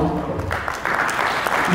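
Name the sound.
audience applause at an award ceremony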